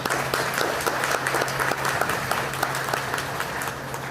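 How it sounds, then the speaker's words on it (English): A crowd at an elementary school ribbon cutting applauds steadily, an even, sustained patter of many hands clapping at moderate loudness throughout. "Let's give them a round of applause"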